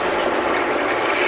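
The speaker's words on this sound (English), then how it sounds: "now we are going to add 3 cups of water into here" Water is poured from a measure of about three cups into a cooking pot of aromatics, a steady, loud rushing splash that fills the whole moment without pause.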